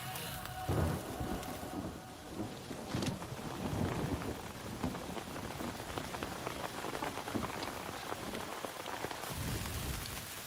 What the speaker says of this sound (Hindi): यहाँ पर बारिश हो रही है